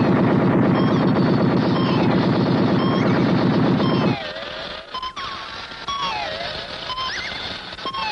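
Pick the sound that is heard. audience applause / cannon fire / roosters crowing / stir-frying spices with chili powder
cannon fire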